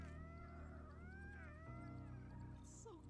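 Baby ghast, or ghastling, from Minecraft, making warbling cat-like mewls and wavering cries with a short high chirp near the end, all quiet over a low hum.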